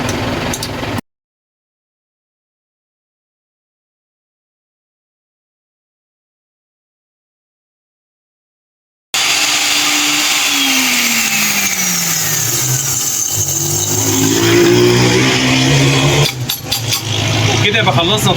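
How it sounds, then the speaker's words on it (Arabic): Hand-cranked spice grinder crushing hard dried galangal root at a spice shop, a loud rough grinding and rattling that swells and varies in pitch, following a long stretch of silence. "وتعالوا بقى نطحن مع بعض ونشوف النتيجة في الاخر هتكون عاملة ازاي"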